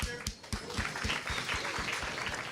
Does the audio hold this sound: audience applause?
yes